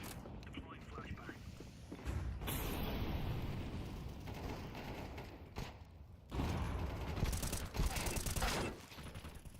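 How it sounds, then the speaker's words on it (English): A flashbang grenade going off in Counter-Strike 2, a burst of loud broadband noise from close by, followed by more loud bursts among game sounds, with someone talking in between. "Deploying flashbang."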